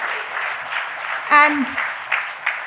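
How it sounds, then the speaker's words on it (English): Audience applause for Abhishek Bachchan at a business summit, a continuous moderate clapping wash in a hall with a voice briefly speaking over it. "A huge round of applause for Abhishek."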